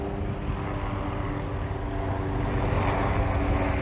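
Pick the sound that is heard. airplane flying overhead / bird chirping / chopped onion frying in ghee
airplane flying overhead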